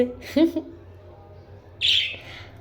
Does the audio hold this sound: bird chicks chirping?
yes